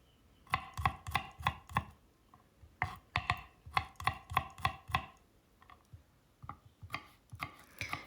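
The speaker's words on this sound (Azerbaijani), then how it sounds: "Dörd-beş diş sarımsağı da doğrayıram." Four or five garlic cloves being chopped with a knife on a board, close, crisp rhythmic knocks in quick bursts of several strokes with short pauses between.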